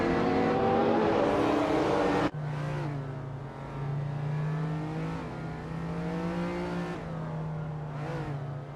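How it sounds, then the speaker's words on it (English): Racing engines in a video game, a 1987 Porsche 959 among them, rev and drone loudly throughout, with a sharp cut to a new engine note partway and pitch rising and falling through gear changes. "Bot Wanga Tank 272 is driving a 1987 Porsche 959"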